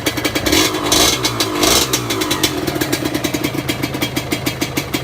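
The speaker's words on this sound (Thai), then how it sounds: "เสียงรอบเครื่องนิ่งๆเลยนะรอเคื่อง" A Honda MTX 125R motorcycle engine idles nearby with an even, rapid thumping pulse, preceded by a couple of brief louder swells of revving in the first two seconds, no talk.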